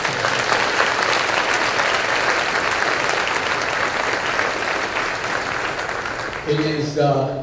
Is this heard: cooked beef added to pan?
no